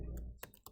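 A computer keyboard gives two or three quick, light keystroke clicks, close and alone, with no voices.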